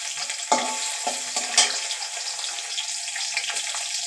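Sliced onions drop into hot oil with cumin and fry with a loud, steady hissing sizzle, plus a few sharp crackles near the start.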